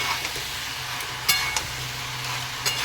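Young goat meat fries with spices in a pan, a steady close sizzle broken by a few metallic clinks and scrapes from stirring.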